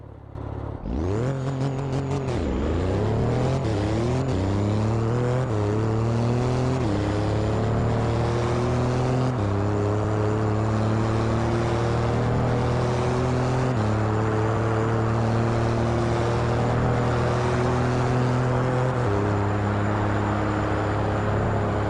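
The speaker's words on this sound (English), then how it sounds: "First up, Maserati Levante." A Maserati Levante in a driving game accelerates hard from a standstill toward top speed, its engine note climbing through repeated upshifts into a sustained loud roar and steady high drone.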